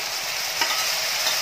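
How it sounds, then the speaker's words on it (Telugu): Strained tamarind extract goes into a frying tempering of green and dried chillies in a pan, giving a loud, close, continuous sizzle with one brief sharper burst. "చింతపండు మనం ఆల్్రెడీ ప్రిపేర్ చేసుకొని ఉంచుకున్నాం కదా వడకట్టుకొని అది మొత్తం దీనిలో వేసేయండి"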